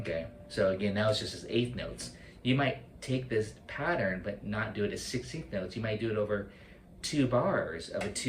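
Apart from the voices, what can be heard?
No distinct noise like a dog, phone or traffic.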